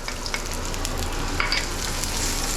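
Garlic and ginger sizzle steadily in hot rice bran oil in a wok, a dense, close frying hiss with a few faint scrapes and ticks, no voices.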